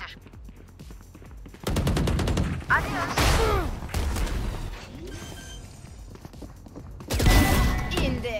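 Bursts of gunfire during a Valorant round, loud rapid shots in several clusters separated by brief pauses, with distorted voice lines and chatter heard between them.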